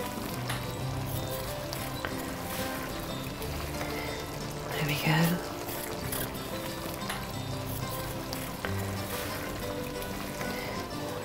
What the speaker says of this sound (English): just leave that to simmer away and gurgle together